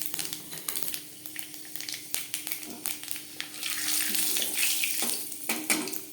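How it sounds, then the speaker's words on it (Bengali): Panch phoron five-spice seeds hit four spoons of hot mustard oil, crackling and spitting in uneven bursts with a hissy, watery sizzle that swells louder toward the end; no one speaks. "4 চামচ সরষের তেল গরম করে নিয়েছি। ফোড়নে দিয়ে দিলাম 5 ফোড়ন।"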